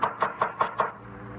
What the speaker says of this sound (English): It was knocking at the door.